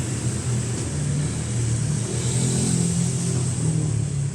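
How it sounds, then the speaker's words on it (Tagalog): A Toyota 3AU gasoline engine runs close by, a steady mid-pitched drone with a rough low hum that swells slightly as it revs, continuous and loud with no voices. "Ang makina 3AU Toyota gasoline engine."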